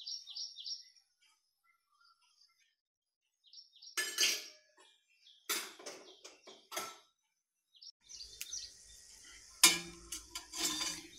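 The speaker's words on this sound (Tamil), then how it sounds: "கடுகு பொரிஞ்சிருச்சு." Mustard seeds splutter in hot coconut oil in a kadai for a Tamil banana flower stir-fry, with quiet intermittent crackles and pops early on, then louder bursts of crackling and spattering near the end.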